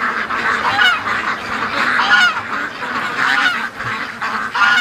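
A group of ducks on the move at a creek, loud overlapping honking and quacking calls in a dense, continuous chorus close by.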